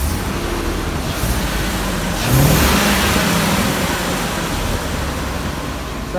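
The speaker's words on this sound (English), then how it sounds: "start up the engine here, engage the PTO, and I'll dump the bed and everything on it and let you listen to the engine" A chipper bed dump truck engine roars steadily, then revs up more loudly about midway before settling back to a sustained drone, heard close with no talking.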